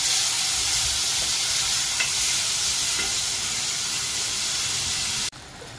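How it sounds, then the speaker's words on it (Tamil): A pan of Sri Lankan tin fish curry with tamarind and tomato bubbles at a boil, giving a steady close sizzling hiss with faint pops, cut off abruptly near the end, with no voices. "இப்போ இது நல்லா கொதிச்சுட்டுது."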